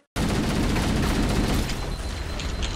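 A grenade explodes in Halo: Combat Evolved, a sudden loud, close blast that cuts in from silence and rumbles on as a long, dense roar before easing slightly toward the end.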